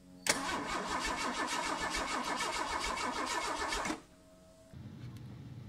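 A car engine cranks as the key is turned, giving a loud rapid rhythmic starter churn for about four seconds. It stops abruptly, and a quieter low mechanical hum follows.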